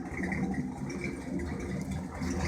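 A 1969 Chevrolet C10 shop truck with new exhaust idles steadily, a low rumbling engine with a light rattle, heard at moderate distance without talk.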